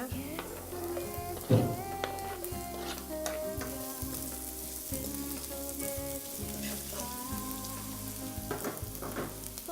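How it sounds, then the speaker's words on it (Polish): Finely diced onion fries in a pan with a continuous, fairly quiet crackle. A spatula occasionally scrapes and stirs through it, with one sharper knock early on, and there is no talking. "Najpierw posmażamy tę cebulę."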